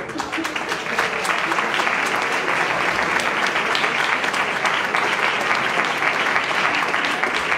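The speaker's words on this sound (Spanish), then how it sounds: "Un aplauso para Rodrigo." Applause from an audience in a hall at a book presentation, a loud, full, sustained clatter of many hands clapping close by, unbroken from start to finish.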